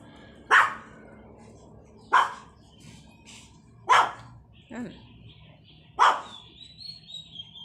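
A dog barks four times, sharp single barks spaced a couple of seconds apart, with birds chirping faintly in the background.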